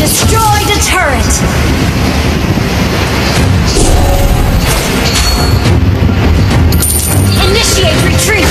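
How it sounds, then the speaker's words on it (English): Booming explosions from a video game battle as a turret is destroyed, dense loud crashes and blasts layered with game effects throughout. "Destroyed a turret!"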